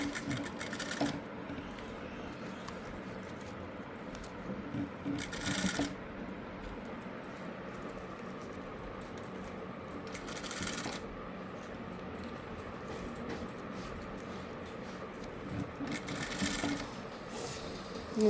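A sewing machine stitches piping onto a frilled frock, a steady close mechanical whirring across the whole span, broken every few seconds by brief louder clattering bursts, with no talking.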